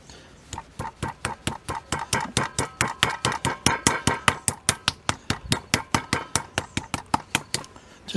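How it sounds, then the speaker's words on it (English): Rapid, steady pounding of a meat mallet on chicken fillets, dozens of sharp thumping strikes in a quick even rhythm, close and fairly loud, with no talking. "Then I'm going to flatten it with this hammer."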